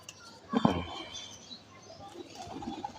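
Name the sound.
pigeon cooing and flapping wings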